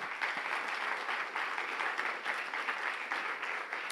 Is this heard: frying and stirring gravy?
no